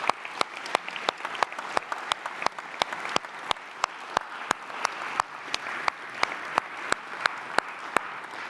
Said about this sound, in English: So let's give them a big round of applause and a thank you.